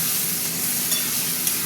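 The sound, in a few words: sautéing spice paste (masala) in oil in a wok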